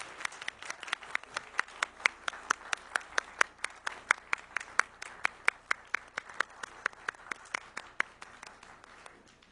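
Audience applause fills a hall at a city sustainability conference in Yokohama, a dense, even patter of many hands clapping steadily throughout, moderately loud with no voices over it.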